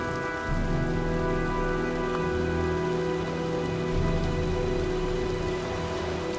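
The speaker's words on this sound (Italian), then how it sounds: "Sta arrivando un bel temporale." Heavy rain of a thunderstorm in the video game Heavy Rain, a steady dense hiss of downpour that runs the whole time, loud and continuous, with a low rumble underneath and no voices.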